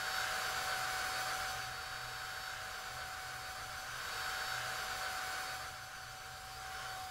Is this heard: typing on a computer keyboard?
no